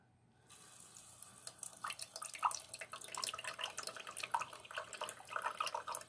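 Tap water runs steadily into a diffuser's reservoir, a close, continuous splashing trickle that starts abruptly after a brief quiet moment and holds with small fluctuations.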